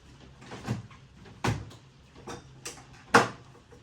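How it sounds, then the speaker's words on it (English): Several sharp clunks and thuds as the small doors of a Philips Perfect Draft home beer tap are opened and knocked, spaced irregularly, close by with no talking. "open your doors"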